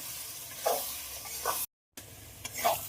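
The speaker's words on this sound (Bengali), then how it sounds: "মশলা দিয়ে আবারও খুব ভালোভাবে নেড়ে দেবো" A spice paste with salt and turmeric is stirred and fried in a pan. There is a soft, close sizzle with several scraping stirs and a short break of silence.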